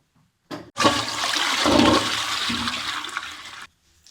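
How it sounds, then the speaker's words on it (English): A toilet flushes nearby, starting with a sharp click and then a loud continuous rush of water lasting about three seconds before cutting off abruptly. "now I need to flush"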